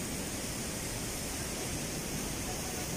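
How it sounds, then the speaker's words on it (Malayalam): Steady broadband rush of water pouring down from above at a waterfall by the Ajanta caves, a continuous even roar with no breaks, fairly loud and close, with no voices over it. "അപ്പോൾ വെള്ളച്ചാട്ടം മേളിൽ നിന്ന് തന്നെ ഒറിജിനലായിട്ടുള്ള വെള്ളങ്ങളാണ് വെള്ളം ഒഴുകി വരുന്നത്."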